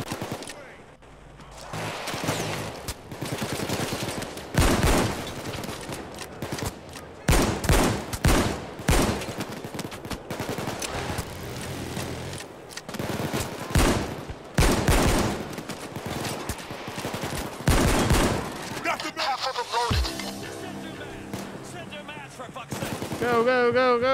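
Sustained gunfire in Payday 2: rapid volleys and bursts of automatic and single shots crack repeatedly through a loud heist shootout, mixed with game sounds and voices, easing toward the end.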